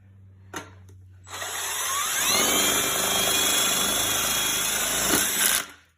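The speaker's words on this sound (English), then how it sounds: "take your drill, put it in your drill gun" A power drill whirs up and runs steadily for several seconds, its pitch rising slightly as it drives a self-tapping screw, then cuts off.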